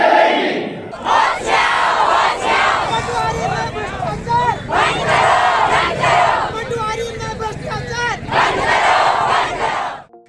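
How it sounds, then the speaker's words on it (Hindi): Crowd of protesting students shouting loud chants in bursts with a pause around the middle, dense and close, with voices layered throughout. "यह जो भीड़ आपने अभी देखी"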